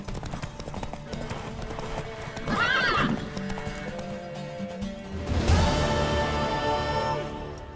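A horse in The Witcher 3 neighs loudly and whinnies again later over rapid galloping hoofbeats, close and clear, with faint game voices underneath.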